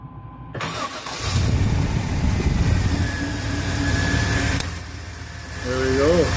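A 1998 GMC Z71 4x4 pickup with a 5.7 V8 and a newly replaced EGR valve cranks and fires up after a brief silence, then settles into a steady, close, even idle, with a voice briefly heard at the end.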